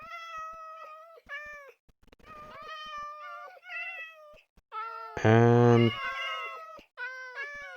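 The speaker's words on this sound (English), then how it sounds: "So if I add another cat" Several Minecraft cats meow repeatedly in short harmonic cries, with one louder, longer meow standing out near the end, and a brief spoken word slipping in between.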